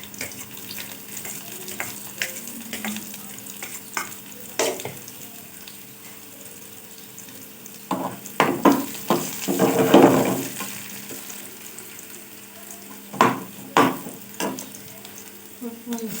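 Garlic sizzles in hot desi ghee in a pan over a lowered village stove, with intermittent stirring scrapes and louder bursts of frying mid-clip, close and steady with no talk.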